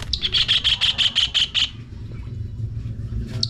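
A kingfisher gives a fast run of about ten sharp, high repeated notes, then falls quiet, with a single brief note near the end over steady low ambient noise.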